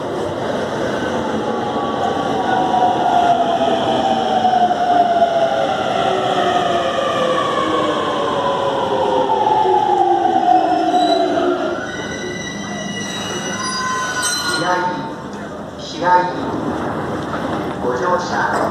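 A Yamanote line commuter train in Tokyo runs along the rails with rising and falling wheel squeal and a steady rumble, then slows as chimes and announcements sound.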